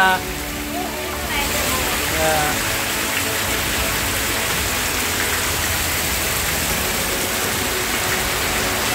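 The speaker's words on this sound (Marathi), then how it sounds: "मामा पाऊस जोरात ना" Heavy unseasonal rain pours down in the Konkan in a constant, dense roar, with faint voices briefly audible beneath it at the start.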